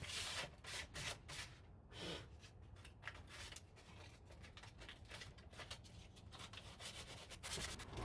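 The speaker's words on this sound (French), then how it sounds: "Je ponce" Steady hand sanding on a surface, a continuous scratchy rubbing with brief bursts of stronger strokes, close and fairly loud with no talk over it.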